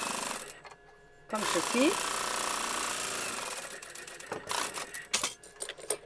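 A home sewing machine stitches the top edge of a Valentine's fabric pouch, a steady mechanical whir running for several seconds after a brief spoken instruction, with talk resuming over the final stretch.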